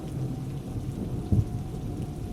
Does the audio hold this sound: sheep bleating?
no